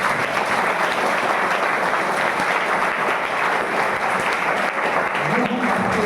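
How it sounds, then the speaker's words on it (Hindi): A seated audience at a Hindi-language anger management and meditation session claps loudly and steadily for about six seconds, a dense, continuous wash of applause with no talk over it. "एक बार सब जोरदार ताली बजाओ अपने लिए ना।"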